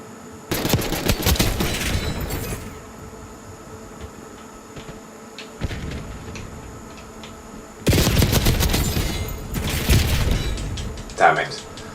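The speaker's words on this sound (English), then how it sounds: "this gun fucking takes ages to shoot" Gunfire in a Call of Duty game, with loud separate volleys of rapid shots and quieter gaps between them in which faint game sounds carry on.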